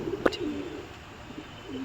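A pigeon coos briefly near the start, followed by faint soft cooing over quiet outdoor background noise.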